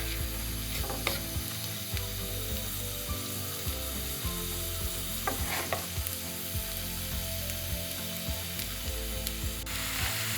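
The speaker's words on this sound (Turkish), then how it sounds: "Soğanımı kavuracağım." Onions sautéing in oil for kısır, a steady crackling sizzle with rhythmic stirring scrapes of a utensil in the pan, close up and without speech.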